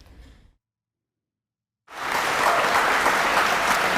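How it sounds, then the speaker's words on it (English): An audience at an Oxford University student Q&A bursts into dense, loud applause after a brief silence, sustained clapping filling the rest of the moment. "that was a thunderous applause in comparison to Cambridge"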